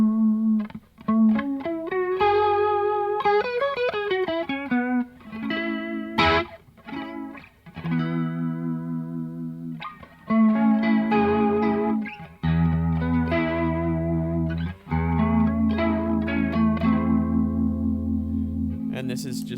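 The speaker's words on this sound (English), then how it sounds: "here's the vibrato sound" An electric guitar played through a vibrato effect pedal on a gig pedalboard, with wavering, pitch-modulated chords and single notes in several phrases with brief pauses, loud and close, no talking.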